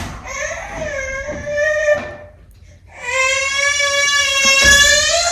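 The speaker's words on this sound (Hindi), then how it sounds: "इसको देखो कितना रोना आ रहा है" An infant cries in two long, loud wailing bursts separated by a brief gasping pause, close by and with no other voices.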